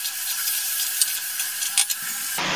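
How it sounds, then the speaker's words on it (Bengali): Malabar spinach leaves and vegetables are stirred in a frying pan over a gas flame for a fish-head chhyachra, giving a steady close sizzle and hiss broken by a few soft scrapes. "এবার দিয়ে দেবো পুঁই শাকের পাতাগুলো আমি ছোটো ছোটো করে কেটে ভালো করে ধুয়ে জল ঝরিয়ে রেখেছিলাম, সেটা দিয়ে দিচ্ছি"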